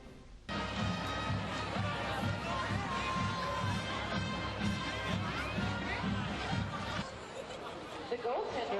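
Crowd noise in the stands at a Friday night Panther game, with steady overlapping chatter, occasional laughter and shouts at moderate distance, dropping slightly near the end.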